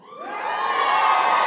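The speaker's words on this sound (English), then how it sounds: "The crowd is cheering for her divorce." Audience at an Ali Wong stand-up comedy show cheering and whooping after a joke about her divorce, a dense roar of shouts and applause that swells up and holds loud throughout.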